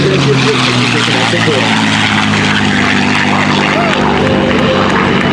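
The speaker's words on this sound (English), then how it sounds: "our F-35 Lightning and F-16 Viper taxi back to parking." F-35 Lightning and F-16 Viper jets taxi at an airshow, a loud continuous engine roar that fills the whole stretch while an announcer talks over the public address.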